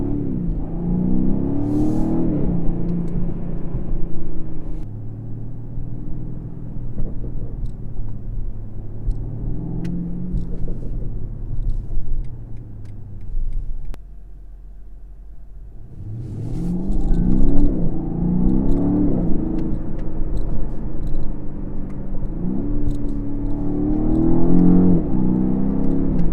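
A 2020 BMW M850i coupe's V8 exhaust under acceleration, a deep rumbling engine note rising through gear pulls, dipping to a quieter lull near the middle before surging loud again, heard from inside the car.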